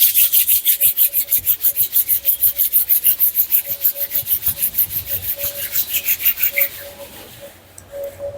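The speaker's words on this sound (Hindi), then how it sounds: "दोनों हथेलियों का आपस में रब करेंगे।" Both palms rub briskly together during a yoga session, a close, steady back-and-forth swishing friction with a fast, even rhythm that slows and fades near the end.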